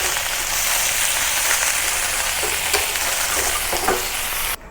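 Chicken and mushrooms stir-fry in a hot wok, a loud continuous sizzle with faint scraping stir strokes close by that cuts off abruptly at the end.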